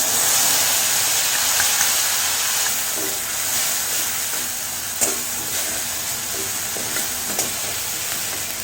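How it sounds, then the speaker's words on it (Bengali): Bay leaves and five-spice (panch phoron) frying in hot oil for a Bengali curry, a continuous close sizzle and hiss with occasional stirring clinks, no talking. "তেল গরম হয়ে গেছে, তেজপাতা ও পাঁচফোড়ন অ্যাড করে তারপর মশলাটা অ্যাড করব।"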